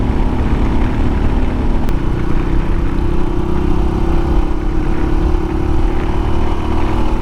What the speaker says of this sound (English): That's the thing with louder exhaust. It makes you want to go faster. And the engine sounds better too.